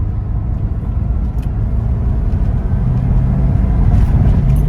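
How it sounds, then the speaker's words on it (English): A 1986 Porsche 944 Turbo (951) accelerating, a steady, full engine and road rumble heard from inside the car that builds slightly toward the end, with no talking. "The torque is very impressive. It is. It comes on and it pulls really good."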